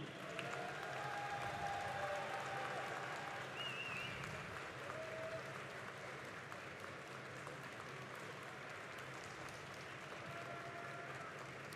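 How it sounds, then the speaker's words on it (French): An audience at a Japan Expo 2024 conference hall applauds in a steady, continuous wash of clapping that sounds fairly distant and soft and lasts the whole stretch. "Je vous demande de faire un tonnerre d'applaudissements"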